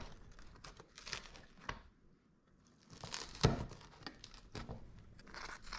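A mezzaluna knife rocks through a thin crust pepperoni pizza, making quiet, close crunching and crinkling cuts in uneven bursts with a short pause in the middle. There is no talking.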